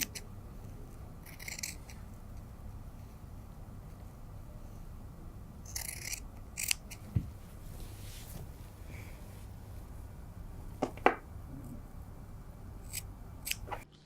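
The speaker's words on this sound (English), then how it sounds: "I need to cut 1 layer of fabric." Scissors cut a single layer of sweatshirt fabric in several short bursts of snipping, with pauses between them, close and fairly quiet over a low steady hiss, no talking.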